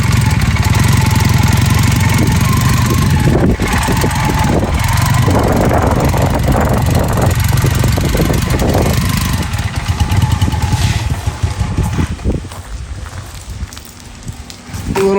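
A 1981 Honda CM400A motorcycle engine runs loud and close, a rough throbbing putter that revs and settles, with wind noise as the bike rides.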